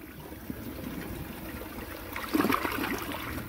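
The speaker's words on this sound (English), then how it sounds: "Give it a flush." A 2007 Gerber Allerton toilet flushes with a steady rush of water that surges and swells partway through, close and continuous with no voices.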